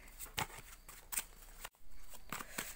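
Tarot cards being shuffled by hand in a quiet room, several soft papery riffles and slides in an uneven rhythm with a brief pause midway, close and fairly faint.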